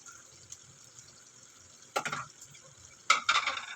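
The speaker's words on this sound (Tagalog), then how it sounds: "Haluin muna natin." A ladle stirs ginataang sitaw with malunggay and tinapa in a pot, two short scraping, sloshing bursts with quiet gaps around them.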